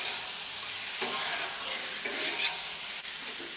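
Carne asada sizzles steadily on a hot Blackstone griddle, a loud continuous frying hiss with a few brief scraping stirs, no talking.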